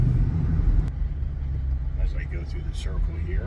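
A Dodge Charger Scat Pack with Mac's Custom Exhaust drones steadily from inside the cabin with the windows up, a low continuous rumble under someone talking.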